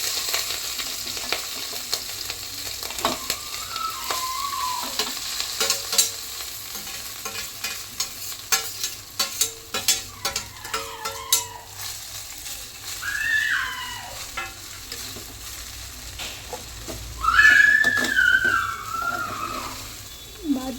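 Cooked rice being stirred into cumin seeds fried in oil in a pan for simple jeera rice, with scraping and stirring over a steady low sizzle, repeated strokes growing louder toward the end.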